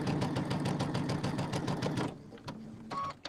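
A sewing machine runs a quarter-inch seam through fabric with vinyl, a close, rapid rhythmic stitching clatter for about two seconds, then stops, followed by a few faint clicks and handling sounds.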